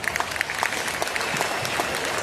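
A large crowd at a Taralabalu Hunnime gathering applauds steadily, a dense continuous patter of many hands with a few louder close claps standing out, sustained for a couple of seconds.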